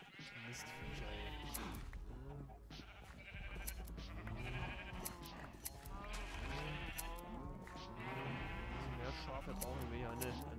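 Sheep bleat repeatedly in the Minecraft video game, a series of wavering, close bleats in steady succession, with someone talking over and between them.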